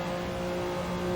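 A Porsche 962C race car in Assetto Corsa at Le Mans 1991, its engine droning loud and steady in a sustained high-revving tone, uninterrupted and without speech.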